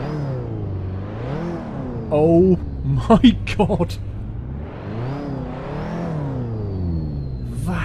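A simulated car engine in the Assetto Corsa racing game rises and falls through repeated revs in long sweeping waves. A loud exclaiming voice cuts in midway.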